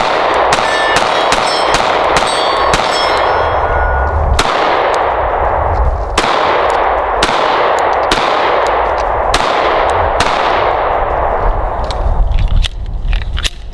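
Sig Sauer X-Macro pistol firing a string of about eight loud, sharp shots at roughly even intervals, each with a ringing decay, close by on a range.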